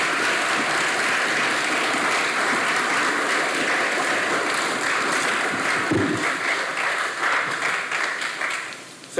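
Sustained applause from an audience at a launch and ribbon-cutting ceremony, a thick, even roar of clapping that carries on for several seconds before thinning out near the end.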